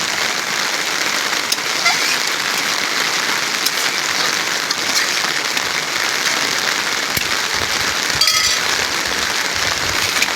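Steady rain falls during outdoor cooking of a home-style fish curry with beans and papaya, a dense hiss of drops on surfaces that continues evenly throughout, with a few louder patters.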